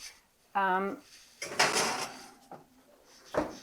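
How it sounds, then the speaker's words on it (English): A tray of cream puff dough slides into a 400-degree home oven: a brief metallic rack-and-door clatter, then duller bumps and a thud as the door shuts, close up in a quiet kitchen. "We're going to pop them in the oven at 400."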